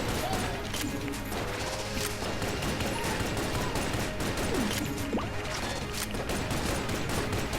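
Rapid gunfire from a six-shot pistol in the video game Enter the Gungeon, dense and continuous with overlapping shots and crashes filling the whole stretch at steady loudness.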